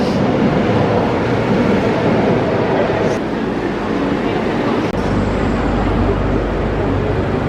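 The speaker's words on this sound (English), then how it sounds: "Oh look, here's the train." A train pulls into the station at Disneyland Paris, a continuous loud rumbling roar of rail noise that deepens as it nears, with a voice talking underneath.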